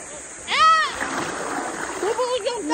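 Water splashes once with a burst during hand-washing of laundry in a river, followed by a steady flowing rush, while a woman and child chatter and laugh nearby.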